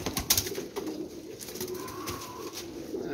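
Young flying pigeons give faint, soft coos in a quiet setting, a few low murmuring calls across a few seconds.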